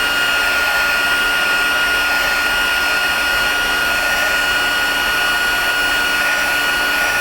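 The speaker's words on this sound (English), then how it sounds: "I'm going to use the heating tool and see if I get this label off." A handheld craft heat tool blows hot air at a label on a journal cover, a loud, steady whirring hum with a constant airy hiss that runs unbroken from start to finish.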